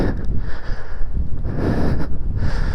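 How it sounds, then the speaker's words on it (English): Strong gusting wind buffets the microphone at an outdoor monument, a continuous low roar with surging gusts and no speech over it. "Jeez, there's some wind today"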